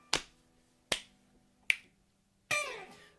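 Four crisp finger snaps, spaced about a second apart, close and clear in a quiet room, the last one trailing into a brief vocal whoop.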